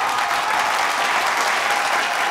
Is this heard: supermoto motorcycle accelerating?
no